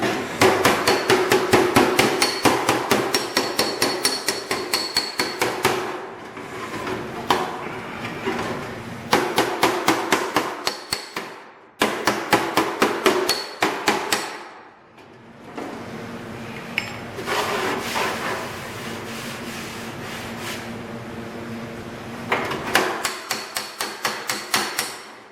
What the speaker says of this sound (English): moving the dolly around the outside edges and hammering down on the inside here.